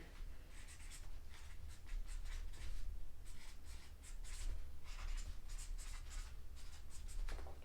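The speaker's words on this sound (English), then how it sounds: "Let me write that down on a piece of paper here." Pen scratching across a sheet of paper at a craps table, a run of quick close strokes and scribbles continuing steadily with brief pauses.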